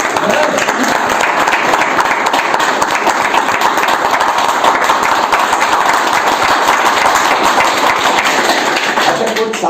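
Sustained, loud audience applause fills the room at a motivational talk, dense steady clapping from a large crowd with a few voices faintly underneath.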